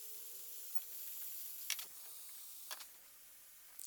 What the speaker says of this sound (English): I'm gonna add a little bit of my peppers to it.